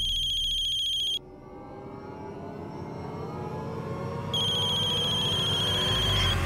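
A telephone rings in two bursts of repeated electronic trills, one opening the scene and another returning near the end, with a swelling dramatic music bed underneath and in the quiet gap between.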